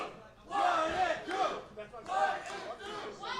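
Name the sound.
crowd chanting at a wrestling event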